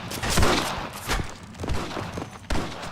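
Scattered gunfire aimed at snipers in the video game Red Dead Redemption Remastered, a handful of sharp shots spaced unevenly over a few seconds amid background noise.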